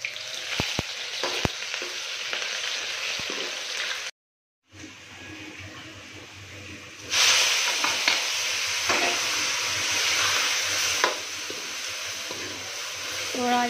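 Garlic and onion fry with cumin in a pan on a gas stove. The loud, steady hiss stops abruptly for a moment, then returns stronger and more intense, with faint clinks of stirring.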